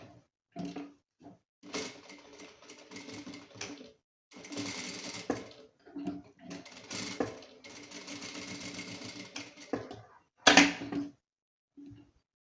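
A sewing machine stitches a stretch velour chair cover in several bursts of rapid mechanical whirring, separated by short pauses, with one louder clunk near the end.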